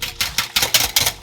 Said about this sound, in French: on va bien remuer, bien battre tout ça sans arrêter pendant quelques minutes